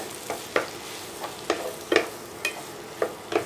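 Grated ash gourd, squeezed but still a little moist, sautés in a pan for halwa, with a spatula scraping and stirring in a steady rhythm of about eight distinct strokes over a low sizzle, close by and without talk.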